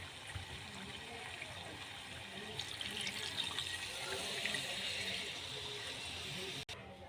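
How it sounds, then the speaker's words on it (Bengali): Water poured into a pot of browned chicken and potatoes, a close, continuous splashing flow that swells midway and stops abruptly near the end. "এবার জল দিয়ে দেবো এতে।"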